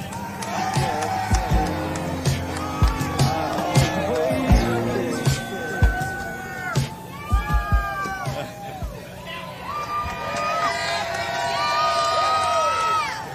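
Crowd at a Monster Jam pit party cheering and screaming as a monster truck is unveiled, with loud, rising shouts, shrill children's squeals and whoops layered over a continuous hubbub and an announcer talking.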